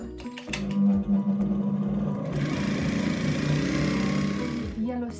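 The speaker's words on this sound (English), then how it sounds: "I'm going to stitch it on inwards onto the skirt" Sewing machine stitching a yellow satin border strip onto the edge of a skirt, a steady mechanical whirr close up after a brief start, with a voice speaking over it.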